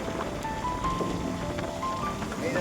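Steady rain hissing across the whole stretch, with faint scattered tones and rumble in the background.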